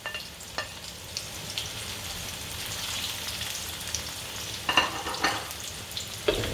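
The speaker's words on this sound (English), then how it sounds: "Nicely give a good mix, good saute to the onion and also the garlic." Onion, garlic and red chili sauté in a pan with a soft, steady sizzle, broken by occasional scraping stirs that swell briefly louder toward the end.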